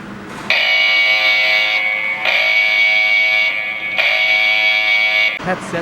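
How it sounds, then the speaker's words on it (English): A smart home alarm base station for a Tuya RF433 security system beeps while a sensor is added, sounding three long, loud, close electronic buzzing tones with short gaps between them. "Then there will be followed by a beeping sound from the base station."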